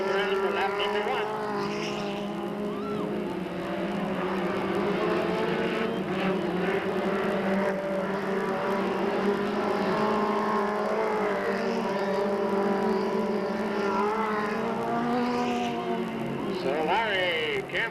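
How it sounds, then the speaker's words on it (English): Race cars circle Delta Speedway in a 1997 race, with a continuous layered engine drone and shifting pitches from several cars, while a commentator talks over the steady roar. "Sam Solari leads him around for lap number 1."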